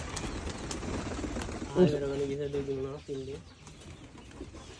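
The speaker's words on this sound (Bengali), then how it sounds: "কটা কবুতর আছে" Pigeons in a loft give a short, fairly loud cooing call lasting about a second, with bursts of wing flapping and rustling around it and indistinct voices in the background.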